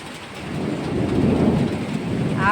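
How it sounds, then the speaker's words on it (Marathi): Heavy summer rain pours steadily while low thunder rumbles and builds underneath, a dense, close wash of rainfall with no voices. "आवाज, आभाळाचा सुद्धा आवाज कसा कडकडाट चाललाय."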